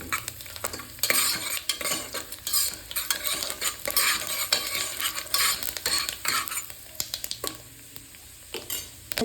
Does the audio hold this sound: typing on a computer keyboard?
no